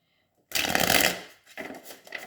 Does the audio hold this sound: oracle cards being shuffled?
yes